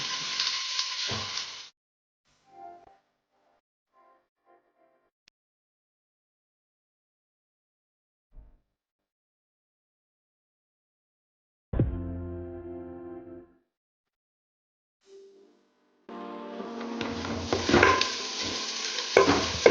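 Mangalore-style country chicken sukka fries in a pan with curry leaves and onion. A short burst of sizzling and stirring gives way to long quiet, then the loud frying hiss returns for the last few seconds.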